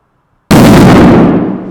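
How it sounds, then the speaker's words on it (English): A chemistry demonstration ends in one sudden, very loud explosive bang with a bright flash, its booming roar dying away over about a second after a brief silence. "It makes a very bright flash. That's the thing to look for, as well as obviously a very loud bang."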